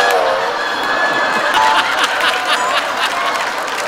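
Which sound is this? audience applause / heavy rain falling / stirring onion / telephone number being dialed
audience applause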